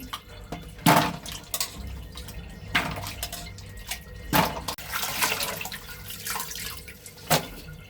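Cut vegetables and spinach being washed in a vessel of water, with intermittent splashes, swishing and dripping alongside occasional clinks of a metal pot, close by and without talk.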